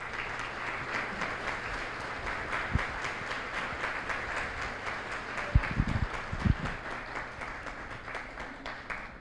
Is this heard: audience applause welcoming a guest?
yes